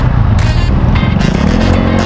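A motorcycle engine runs loud and steady throughout, a dense low rumble with broadband road and wind noise over it, recorded close up while riding, with no talk.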